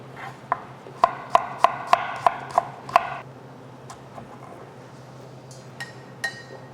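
A knife julienning a peeled carrot on a cutting board gives a run of about eight crisp, evenly spaced chops close up, then a few scattered lighter taps before it goes quiet.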